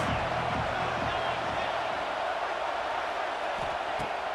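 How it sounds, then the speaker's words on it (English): Stadium crowd in the EA Sports College Football 26 video game, a dense steady roar of cheering and noise that holds at the same level for the whole stretch, with faint play-by-play commentary under it. "This crowd trying to make life miserable for this offense."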